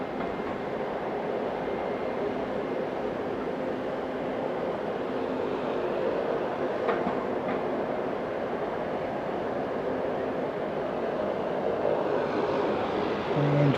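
A Cathay Pacific airliner, flight 198, rumbles steadily at Auckland Airport, a broad engine roar that holds at an even level and swells slightly toward the end, with no voices.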